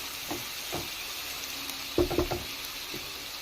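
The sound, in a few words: onions frying while being stirred for fish curry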